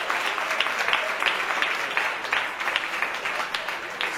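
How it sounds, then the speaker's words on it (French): An audience applauds at a guitar and bass competition semi-final, a dense, steady patter of clapping that holds throughout at moderate loudness. "On augmente un peu plus de volume des applaudissements,"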